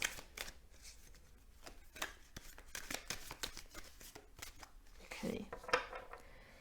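Tarot cards being shuffled by hand: soft irregular riffling and flicking card noises with occasional sharper taps and slaps, close but quiet, with no talk.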